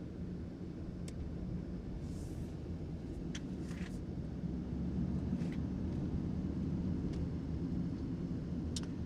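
A Land Rover Defender 90 Trophy, full-time all-wheel drive, taken fast around a tight roundabout, with a steady loud engine and road drone that rises slightly partway through and holds to the end.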